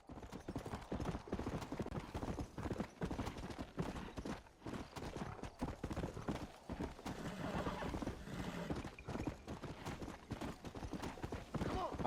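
Horse hooves clip-clop steadily through the Red Dead Redemption open world, a busy, continuous trot with occasional neighs and whinnies, loud and close, mixed with game ambience and some talk.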